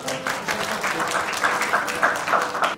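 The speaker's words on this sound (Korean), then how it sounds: "네, 박수 부탁드립니다." Audience at a Korean launch ceremony applauds, a dense, even wash of many hands clapping at moderate distance, steady throughout.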